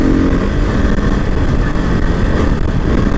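A motorcycle ridden on a long tour gives a loud, steady engine drone with rushing wind buffeting, close and continuous throughout with no voices.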